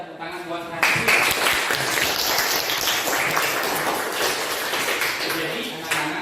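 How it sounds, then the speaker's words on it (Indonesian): Children clap together in a classroom. A brief spoken word comes first, then a thick, continuous burst of clapping begins and fills the room for about five seconds. "Boleh kita tepuk tangan buat hari."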